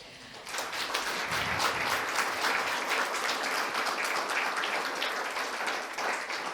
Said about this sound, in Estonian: Nii et äkki täname veel kord nüüd Keiut suure aplausiga.